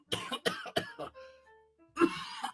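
A run of harsh coughs comes close and loud, three quick ones, then a strained wheezing breath, then another burst of coughing at the end.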